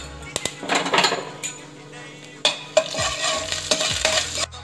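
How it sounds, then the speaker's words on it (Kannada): Sesame seeds and cumin fry in a pan with a soft sizzle, broken by repeated close scraping and clinking strokes of a spoon stirring them. "ಒಂದು ಸ್ಪೂನ್ ಜೀರಿಗೆ ಹಾಕ್ಕೊಂಡು ಫ್ರೈ ಮಾಡ್ಕೊತಾ ಇದ್ದೀನಿ"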